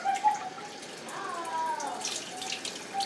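Canned beans are drained and rinsed under a running tap, giving a soft, steady splash of water with faint trickles, close by and fairly quiet.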